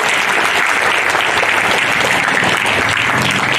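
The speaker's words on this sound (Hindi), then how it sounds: "सभी जोरदार ताली" Loud, sustained applause from a crowd at a Lions Club event, steady clapping filling the whole stretch with no talking over it.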